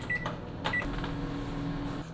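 A microwave oven heating a packaged diet rice-bowl meal gives two short electronic beeps, then settles into a steady, low operating hum, heard close with no talking.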